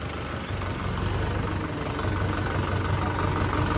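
A John Deere 5210 tractor engine idles close by, a dense, steady diesel rumble throughout with no talk.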